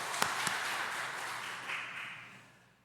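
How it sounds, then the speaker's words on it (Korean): A church congregation claps in praise, a soft diffuse wash of applause that holds steady and then fades away toward the end. "하나님께 영광의 박수 올려드립니다."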